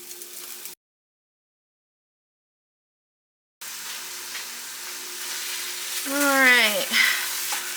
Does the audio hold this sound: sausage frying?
yes